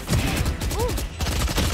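Gunfire in the video game Valorant: a quick burst of sharp, close shots in rapid succession, with a brief game tone and a faint voice in the mix.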